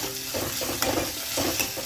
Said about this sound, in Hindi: मैं बना रही हूँ छोले।